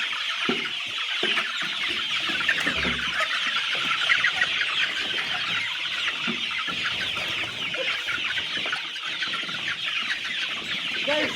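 Chickens on a poultry farm cluck and call continuously in a dense, close flock chorus, with busy overlapping bird noise filling the whole stretch and no talking.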